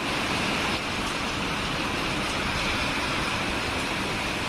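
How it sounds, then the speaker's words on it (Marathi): Rain falls outdoors as a dense, even hiss that holds steady the whole time, with no voices over it. "अरे पाऊस पडायला लागला"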